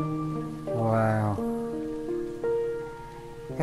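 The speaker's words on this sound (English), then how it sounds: "Can't stop the rain completely." Steady rain hisses in the background of the VR game Found while sustained tonal notes swell and fade over it.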